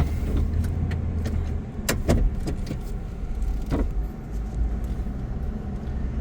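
A 2010 Ford E-Series van from county service with 61,096 miles, needing transmission work, idles with a steady low engine rumble, close by, with a few clicks and knocks from inside the cab and no speech.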